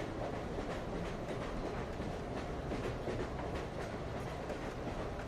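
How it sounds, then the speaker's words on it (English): A train ride heard from inside the carriage, with a steady, soft rolling rumble and faint rhythmic clickety-clack of wheels over rail joints, continuous and without voices. "as you drift and float on this dreamy train ride"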